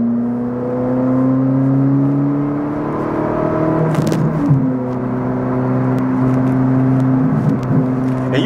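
A Ferrari 458 Italia engine accelerating, heard from inside the car as a loud, steady droning whine that climbs gradually in pitch, with a shift-like break midway before it rises again.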